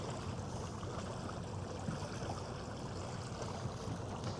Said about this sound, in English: Getting some water flowing through them gills